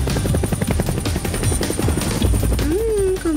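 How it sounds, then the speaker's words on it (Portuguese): A toy-like helicopter whirs steadily and close, its rapid rotor chop pulsing throughout with a constant high whine, ending as a rising tone swoops upward. "Meu helicóptero vai ajudar."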